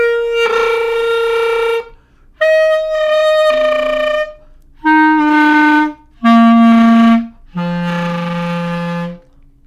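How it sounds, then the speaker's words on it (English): Clarinet flutter-tongue growl across five separate sustained notes that step downward in pitch, each rough and buzzy and separated by short gaps, played alone and close up. "Flutter tongue on clarinet."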